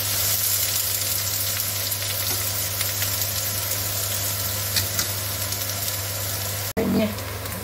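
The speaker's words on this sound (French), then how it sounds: "On fait revenir les oignons." Onions fry in a pan for chili con carne, a loud, steady close sizzle over a low electrical hum, with a brief knock near the end.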